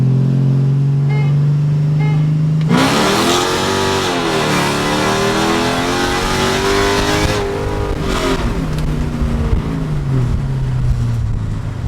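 A Mercedes CLK55 AMG fitted with 20-inch wheels accelerates hard. The loud engine note climbs steadily through a long pull and shifts gear partway, close and dominant, with no talking over it.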